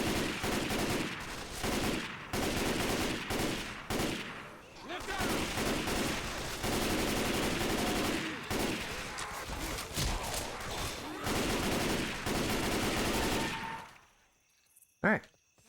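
Dense, continuous gunfire from Left 4 Dead 2, bursts of automatic and rapid shots layered over each other for most of the stretch, with voices talking amid the shooting before it cuts off into near silence with a last isolated bang.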